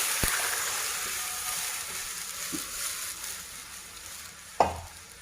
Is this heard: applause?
no